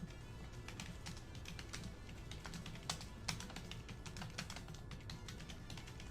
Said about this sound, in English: I'm typing. Don't leave the chat. I have to type.